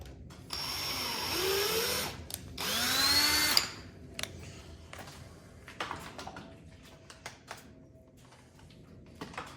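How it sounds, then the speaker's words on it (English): Two bursts of a whining power drill biting into metal while drilling and tapping a hole on an Archdale milling machine, each a couple of seconds long, followed by quieter clicks and handling noises. "we'll just drill this, tap this with a drill"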